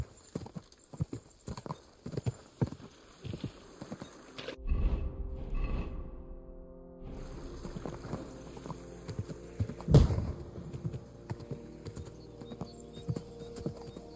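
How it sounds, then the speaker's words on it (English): Horse hooves clip-clopping in the medieval video game Kingdom Come: Deliverance II, steady close hoofbeats over ambient game sound with a brief louder burst midway, moving and stopping. "O cavalo tá meio maluco"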